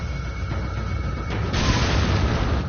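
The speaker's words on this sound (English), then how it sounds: "Let me go ahead and equip this hand grenade." A hand grenade goes off in the Resident Evil 4 video game, a dull low boom swelling midway and rumbling on steadily, moderately loud with no voices.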